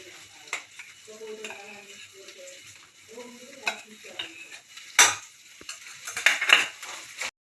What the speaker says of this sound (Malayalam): ഇഞ്ചി വെളുത്തുള്ളി പേസ്റ്റ് ഇട്ട് ഒന്ന് ഇളക്കി കൊടുക്കാം